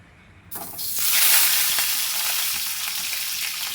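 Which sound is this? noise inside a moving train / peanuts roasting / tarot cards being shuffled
peanuts roasting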